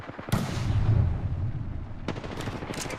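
Gunfire in the video game Apex Legends: a sharp shot followed by a muffled rumble, then a quick burst of clipped distant shots about two seconds later, moderately loud against steady game background noise.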